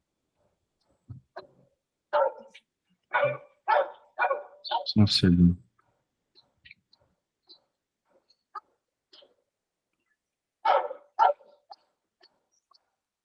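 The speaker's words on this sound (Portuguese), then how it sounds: "tem um cachorro irritante aqui" A dog barks repeatedly in sharp clusters, a run of loud barks early on followed by scattered quieter yips and another short burst later, with a brief spoken phrase mixed in.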